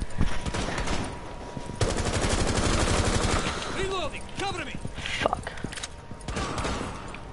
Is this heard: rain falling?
no